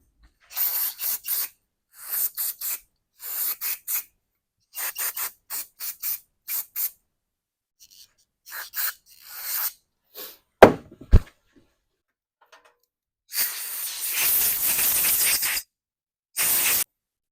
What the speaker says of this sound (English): So all I did there was hose it out with brake cleaner, and then took my air hose